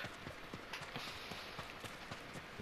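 Horse hooves clip-clop in a quick, irregular rhythm in the video game Ghost of Tsushima, soft and close against a low background hiss.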